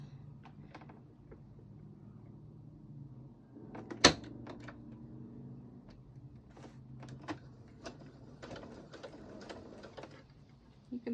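A home sewing machine runs in short, quiet mechanical bursts while stitching a zipper-back pillow, with one sharp clack partway through and light handling noises around it.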